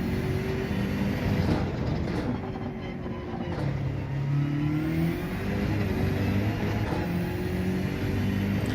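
A BMW M6 Gr.3 race car engine in Gran Turismo 7 drones loudly and continuously, its pitch rising through the gears and dipping under braking, with tyre noise beneath.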